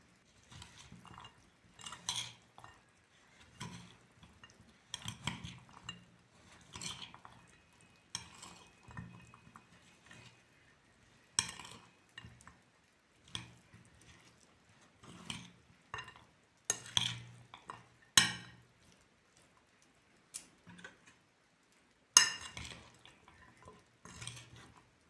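Aloo kabli, the Bengali potato street snack, is tossed and mixed in a bowl, giving soft, irregular scraping and clinking stirs in bursts, close by, with quiet pauses between.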